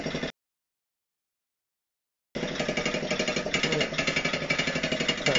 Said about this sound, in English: That muffler is really rattly.